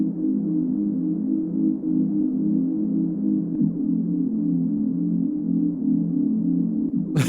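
A mellow, low-toned synth beat with slow LFO pitch modulation hums steadily in a dreamy, gently wavering loop, ending with a brief sharp click.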